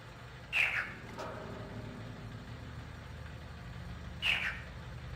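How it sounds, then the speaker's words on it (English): In the video game Riven, two short bright chirps sound about four seconds apart over a low, steady humming drone. "No, there's just two chirps"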